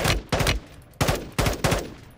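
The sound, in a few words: gunfire in the video game Call of Duty Warzone 2.0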